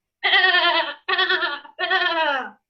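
A voice imitates sheep, giving three long, wavering bleats in a row. Close and loud, with short gaps between them.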